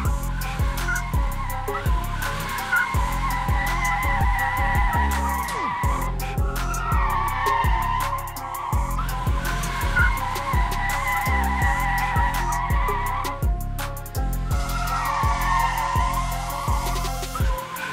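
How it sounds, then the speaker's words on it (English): A car drifts around the Bushy Park race circuit in Barbados, tires squealing through corners while the engine revs in repeated rising pulls and gear shifts, loud and sustained with no voices. "Literally every corner was getting drifted and he demanded the entire track for himself."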